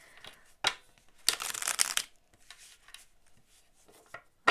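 A deck of tarot cards is shuffled in a few quick riffling, rustling bursts, close and fairly loud, with quieter pauses between them.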